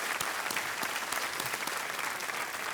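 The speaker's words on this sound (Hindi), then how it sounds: "एक बार फिर तालियों के साथ उनका अभिनंदन।" A studio audience at the KBC quiz show breaks into steady, dense applause that holds at an even level for the whole stretch, with no talking over it.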